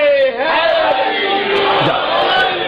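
A crowd at a Shia religious gathering honouring Fatima roars a slogan back in unison, a loud, massed burst of voices that rises, holds briefly and fades.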